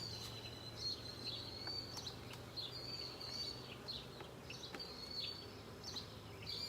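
Honey bees hum around an opened hive while a queen excluder is fitted, a soft continuous drone with a low steady tone beneath and faint chirps of birds scattered over it, no talk.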